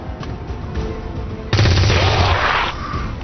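Gunfire in XCOM 2, a sudden loud burst of rapid shots erupting after a brief lull, rattling for about a second before cutting back to ambient game noise.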